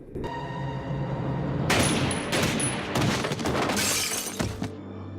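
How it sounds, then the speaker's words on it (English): Gunfire crackles in a tense scene from a Supernatural episode as silver bullets are fired at a shapeshifter. The bursts are loud and chaotic, with shattering and crashing sounds mixed in over a dramatic score. "the real Dean finally arrives and puts 2 silver bullets into his chest"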